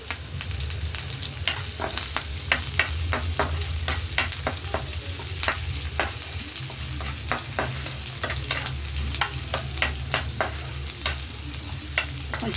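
Chana dal and curry leaves fry in hot oil with a constant loud sizzle. Frequent crisp spatula scrapes and taps sound throughout, close and with no voices.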